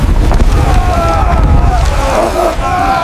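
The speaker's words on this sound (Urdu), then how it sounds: "پھر اچانک سے طوفان آ گیا، لہریں بلند، ہوا تیز۔" Storm at sea with strong wind and high waves, a loud low roaring gust and surging water around a boat, with muffled shouting voices mixed in.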